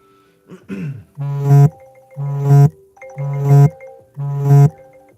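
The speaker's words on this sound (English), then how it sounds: "I forgot to turn my alarm off." A phone alarm goes off in a room during a live painting stream, a melodic tone pattern repeating four times in steady, even bursts, loud and close, with no talk over it.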